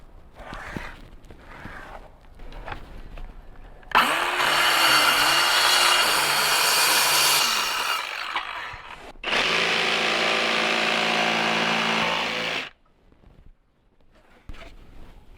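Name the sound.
sawing a small piece of wooden board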